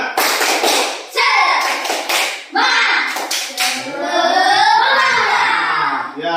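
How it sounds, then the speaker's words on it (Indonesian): A school class performs a rhythmic spirit clap, tepuk semangat, with bursts of sharp, loud claps in patterned groups punctuated by shouted chants. Children's voices rise and fall between the clapping rounds. "Semua lagi, ulang. Belum kedengaran suaranya yang nyaring. Ya, tepuk semangat."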